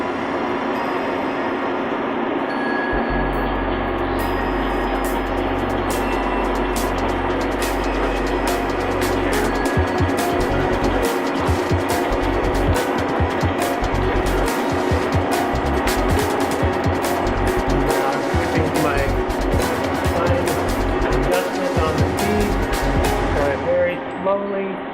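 Cylindrical grinder wheel spinning up with its oil pump already running, a loud continuous machine drone with a low rumble that builds after a few seconds and holds steady, with shop clatter and voices over it.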